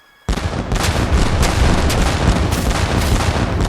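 Ship cannons fire in an Age of Empires 3 naval cinematic: a sudden loud burst of booming shots, then a dense, continuous barrage of heavy blasts rolling on without pause.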